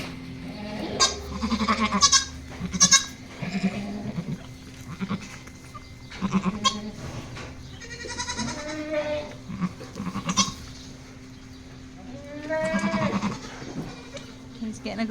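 Goats on a farm bleat repeatedly, close and loud, in scattered calls overlapping one another, while a person talks quietly at times among them.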